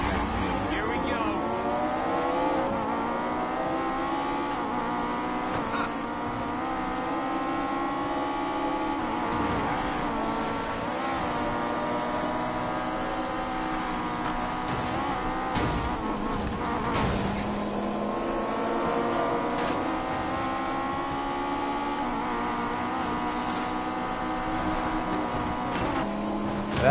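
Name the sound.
cars racing in the video game Need for Speed Payback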